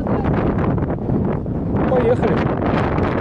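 Strong gusty wind roars across a cyclist's microphone on an open road, a steady loud rumble with surging gusts, while a person speaks briefly over it.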